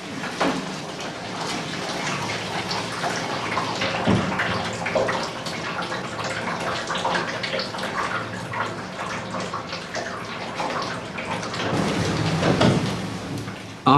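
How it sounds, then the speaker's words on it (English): Continuous rushing, splashing boiling water washing wax out of a pressing cloth during beeswax processing, with bubbling and clattering, loud and close, without voices. "With the help of boiling water, the rest of the wax is washed out."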